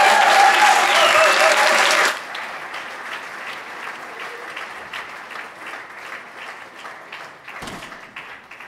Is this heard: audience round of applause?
yes